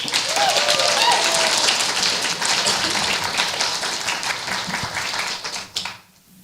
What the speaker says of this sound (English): please give a round of applause for Laura Judge